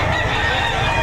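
Chickens and roosters at a Saturday poultry market in Lipa, Batangas, making loud, close clucking and squawking over a steady crowded background.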